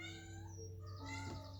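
A pet cat meows indoors, a drawn-out, close, clear call with steady harmonic tones over a low background hum.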